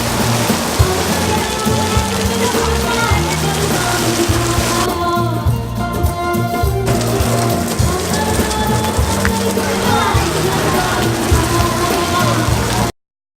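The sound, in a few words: heavy rain in Delhi during festival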